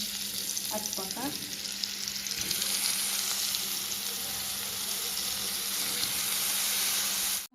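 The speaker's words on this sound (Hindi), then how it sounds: "इस कढ़ाई में ना आलू ला भी थोड़ा सा तल लेना है तब अच्छा पका।" Potatoes frying in oil in a kadhai give a steady, loud sizzle that holds throughout, with a few light clinks of stirring near the start.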